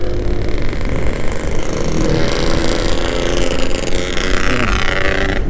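A loud, rough motorcycle engine drones continuously on a road, close by, with a gritty rumble that swells slightly toward the end.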